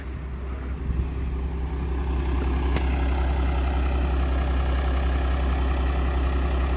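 A diesel pickup truck with a grid heater delete idles steadily, a loud, close low engine rumble holding constant throughout with no talk.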